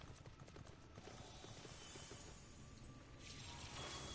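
Horse hooves in Final Fantasy XIV: Shadowbringers clip-clop in a quick, uneven rhythm on a hard tavern floor, close by, with faint clattering mechanical noises in the background.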